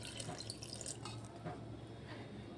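Water trickles and splashes softly into a bowl of semolina and yogurt batter for carrot idli. The sound is faint and continuous, with small drip-like spatters and no talking.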